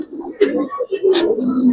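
Giribaz and coloring pigeons coo in a loft, giving a couple of close, throaty rolling coos in a brief burst.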